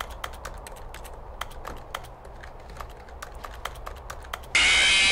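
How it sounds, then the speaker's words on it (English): Rapid keyboard typing clicks from The Stanley Parable, a steady stream of sharp key taps over a low background hum, ending in a sudden burst of loud bright noise. "Sounds like I'm typing on a keyboard"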